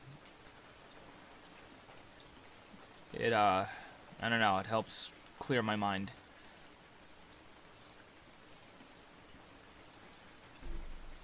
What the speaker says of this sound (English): I usually love just chilling in the rain.